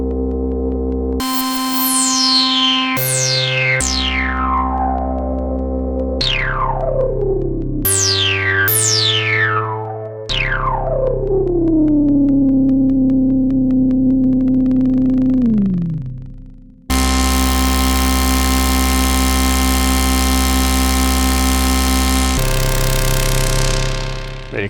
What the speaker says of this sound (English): And we can actually mix in the center reverb as well.